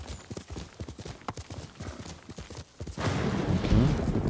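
A horse gallops in the video game Ghost of Tsushima, its hooves clip-clopping in a steady rapid rhythm, close and clear, then swelling into a louder rush of movement near the end.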